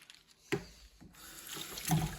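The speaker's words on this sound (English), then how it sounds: "to get all the soap out, we'll use the sprayer" A water sprayer rinses soap out of a dirty tractor cab, giving a faint steady hiss and splash with a brief knock early on and the spray growing a little stronger toward the end.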